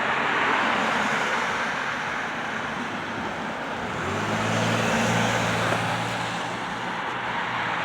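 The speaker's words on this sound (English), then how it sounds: "There's a car that was way down there." A car on a distant road drives past with a low engine hum rising out of steady outdoor wind noise partway through, then fading slightly, with no talking.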